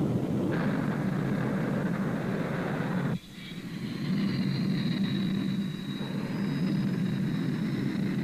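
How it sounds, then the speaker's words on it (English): A Grumman A-6E Intruder carrier-borne all-weather attack bomber gives a steady, loud jet roar on deck that cuts off abruptly for a moment, then swells back up and holds. "The Grumman A6E Intruder is the world's finest carrier-borne all-weather attack bomber."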